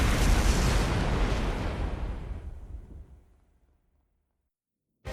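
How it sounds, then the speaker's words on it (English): A large bomb explodes in the video game Trails Through Daybreak, a loud, broad roaring blast that decays over about three seconds into silence before another sound briefly cuts in. "Holy, that's a bigger bomb than I thought."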